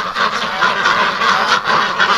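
Ducks let out of their coop on a cold February morning quack and honk in a loud, continuous overlapping chorus close by.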